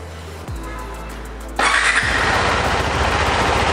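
KTM 390 Adventure motorcycle with a single-cylinder 373 cc engine cranking over, catching and settling into a loud, steady idle, close by and with no talk over it.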